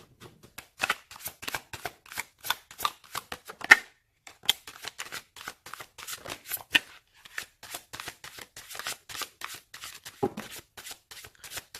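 Tarot cards are handled and shuffled, a run of quick crisp riffles and flicks in uneven bursts, close and fairly quiet, with short pauses between handfuls.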